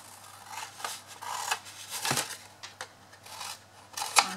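Scissors cut away corners of a workpiece in a series of crisp, close snips at an uneven rhythm, with no talking.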